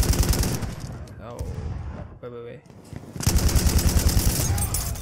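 Bursts of rapid gunfire in the online multiplayer shooter Battlefield 1 on PS4, loud crackling volleys at the start and again in the second half, with a short quieter gap and a player speaking briefly.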